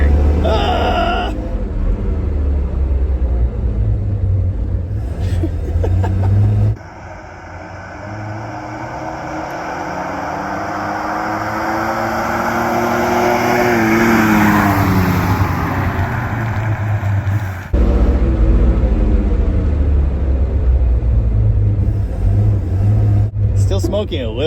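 A 1949 Studebaker Champion engine with a dead cylinder and dragging brakes runs steadily with a low, rough rumble that swells and shifts mid-way, a whine riding over it.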